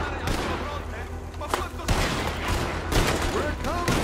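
Volleys of gunfire in a Western shootout in Red Dead Redemption, with several sharp cracks and a sustained fusillade over a busy battle din, while a voice talks intermittently underneath.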